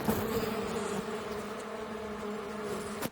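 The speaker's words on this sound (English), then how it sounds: "Thousands of these bees all together working in harmony." A dense, steady buzzing of many bees hums continuously close by, with a sharp click near the end.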